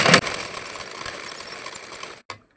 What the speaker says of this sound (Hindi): तो अब मैं डबल सिलाई लगाती हूँ